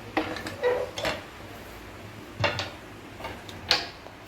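A pressure cooker is set down onto a preheated pan on the stove while making chicken biryani, giving a few separate metallic clunks and scrapes of cookware, moderately close and with no talk.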